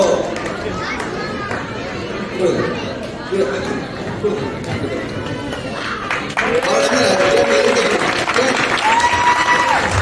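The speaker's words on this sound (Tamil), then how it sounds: "கொஞ்சம் வேகமாக கைத்தட்டீங்கன்னா நான் ஒரு மோட்டிவேட்டாக இருக்கேன்" A crowd claps at a Diwali tennis tournament program, over lively chatter and children's voices. The applause builds and grows noticeably louder in the second half.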